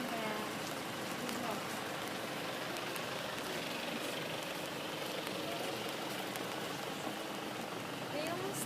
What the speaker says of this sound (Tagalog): Medyo umuulan na naman